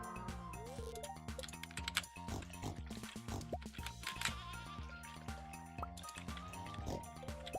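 Pigs grunt and oink in the farming game Stardew Valley, short snorting calls scattered over busy game music and clicking effects, fairly faint.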